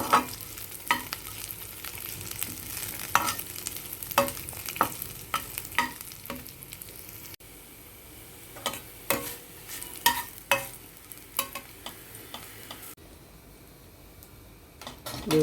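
Cashews frying in oil in a pan for chicken 65, a close, continuous sizzle punctuated by frequent clinks and scrapes of a stirring spoon, with no talk.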